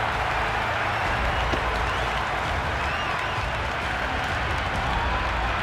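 A stadium crowd applauds and cheers in the video game Cricket 26 during a Big Bash League match, a dense, steady wash of clapping and crowd noise that holds throughout with no talking.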